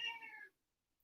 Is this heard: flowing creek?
no